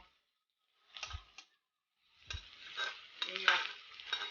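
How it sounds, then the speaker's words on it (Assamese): Chopped onions frying in oil in a home kitchen, stirred in short scraping strokes. A quiet sizzle sits under two separate bursts of stirring, the second longer and busier. "এয়া তেল পিঁয়াজ বহাই দিছোঁ লাৰি আছোঁ পিঁয়াজখিনি দেখাই দি আছোঁ"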